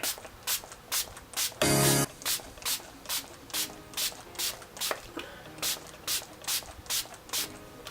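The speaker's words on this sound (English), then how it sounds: "it's like the best setting spray I've ever used" Rapid pumps of a makeup setting spray mist hiss in a steady rhythm, about two per second, close and clear, with one longer continuous spray early on.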